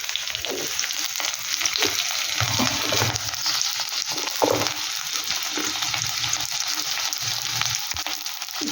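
Fresh green chilies frying in a pan with a little salt, a dense, close sizzle that swells and eases with rhythmic stirring and scraping, no voices present.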